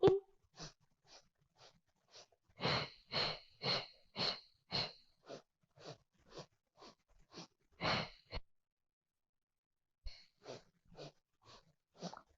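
Breathing during a Pilates mat exercise: a close, regular series of short, puffing breaths, some stronger than others, pausing briefly before resuming, with no voices.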